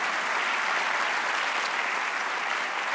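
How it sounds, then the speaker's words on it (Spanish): A church congregation applauds during a Spanish-language sermon, giving steady, dense clapping from many hands that fills the room evenly for a few seconds with no break. "Dar un aplauso al Señor."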